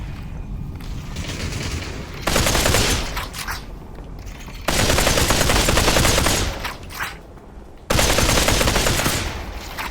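Video game gunfire in a competitive shooter match, heavy rapid automatic bursts coming in three long loud stretches with quieter gaps between them, close and with no talk over it.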